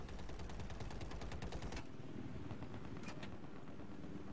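Automatic gunfire in Battlefield 4 from a Little Bird helicopter fight, a dense loud burst of rapid shots for nearly two seconds, then rumbling engine noise with a brief second crackle.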